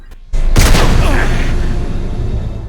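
A single loud gunshot in the video game Mass Effect 3, a sharp blast followed by a booming echo that slowly fades over a couple of seconds.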